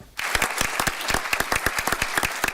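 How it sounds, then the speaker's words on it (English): Applause breaks out after Iowa's governor signs a bill into law: distinct, fairly close hand claps from a small group start abruptly and go on at a brisk, uneven rhythm. "Applause rang out after Iowa's Republican Governor Kim Reynolds signed a new bill into law"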